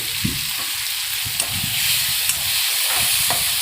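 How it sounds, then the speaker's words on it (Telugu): Tomatoes with salt frying in a pan, a steady close sizzle and hiss with a few soft stirring scrapes, no talk. "టమాటాని కూడా బాగా వేయించి కొంచెం సాల్ట్ యాడ్ చేసుకోవాలండి"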